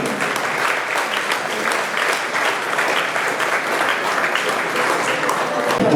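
Guests at a baptism celebration give a steady, sustained round of applause for the newly baptized, with dense clapping continuing evenly throughout.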